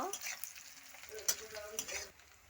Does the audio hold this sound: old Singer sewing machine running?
no